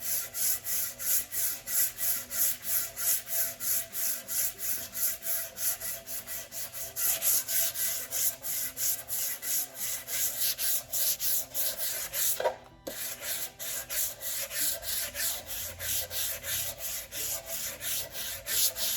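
Sandpaper works steadily back and forth over a primed 1940 Ford car body with fiberglass and welded patch repairs, taking off the guide coat in fast, even, rhythmic rasping strokes with a brief break partway through.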